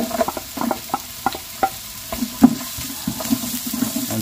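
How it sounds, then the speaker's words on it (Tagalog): Ginger, garlic and onion being sautéed in a large pot, the start of a sinigang: soft sizzling under intermittent scraping and tapping of a spoon, close and fairly quiet, with no talking. "gisa na po tayo ng ating luya, bawang, sibuyas"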